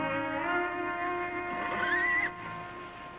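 A horse whinnies loudly and close by, one long rising and falling neigh lasting a couple of seconds before trailing off.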